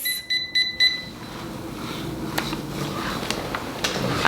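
A curling iron's timer gives three short, clear beeps close by, followed by faint room noise and a few soft clicks.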